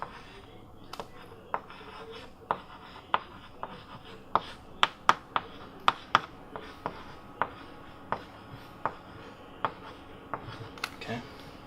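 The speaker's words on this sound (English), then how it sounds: "Cruz, you can get up here first and write some of the things that you would associate with" Marker strokes on a board during a classroom lesson, a series of short squeaky taps and rubs in an irregular rhythm, close and clear over a quiet room murmur.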